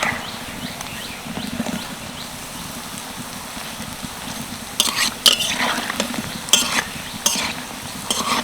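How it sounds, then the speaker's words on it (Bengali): Semolina pakoras frying in hot oil, a steady bubbling sizzle with louder crackling bursts and occasional utensil scrapes toward the end as they are turned. "এক পিঠ ভেজে নিয়েছি এবার সবগুলোকে উল্টে দেবো"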